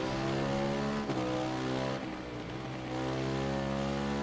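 A motorcycle engine in the racing video game Ride 3, a high, whining, revving tone with two quick gear-shift breaks, carrying on steadily and alone.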